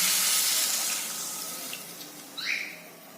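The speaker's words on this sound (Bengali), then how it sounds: "এবার আমি এতে জল ঢেলে দেবো।" Water pours steadily into a cooking pot for a poppy seed and potato curry, a close rushing splash that gradually softens, ending with a brief sizzle-like hiss.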